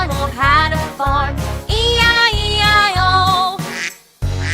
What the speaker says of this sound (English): With a quack quack here and a quack quack there.